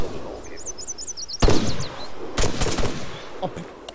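Gunfire crackles in a military shooter video game, with two loud close shots and scattered quieter reports, as players talk over the action.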